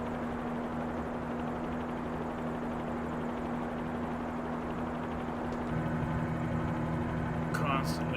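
A Bell 47G helicopter in a flight simulator game, its rotor and engine making a steady, close droning hum with a constant low tone throughout and slightly rougher noise near the end.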